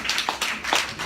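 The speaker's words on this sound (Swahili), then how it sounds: "Pigia Bwana makofi makubwa." A church congregation at a Sunday service claps together, a short burst of a few loud, rhythmic hand claps heard close, with no talking.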